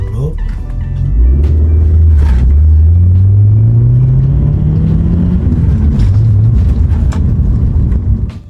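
A Honda car engine revs hard with VTEC engaged, a loud rising roar that climbs steadily over several seconds before easing off, close and dominant, with a voice talking over it.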